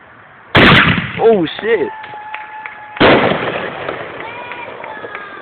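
Backyard fireworks at a house party burst loudly and close, two sharp blasts with crackling tails and fizzing, whistling trails between them, while people talk and exclaim nearby.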